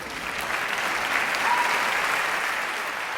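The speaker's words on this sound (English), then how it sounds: "I'm clapping for my wife" An audience applauds at a vegan-themed musical stage event, a dense sustained burst of many hands clapping at close range, steady and loud throughout without speech.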